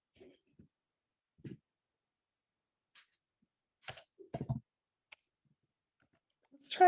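Scattered, sparse clicks of a computer mouse come in short bursts, separated by near silence, with a voice speaking briefly in between.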